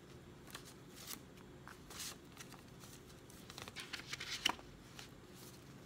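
Greeting cards and envelopes being handled at close range, quiet papery rustles and flicks with a few crisper crinkles near the end, no talking.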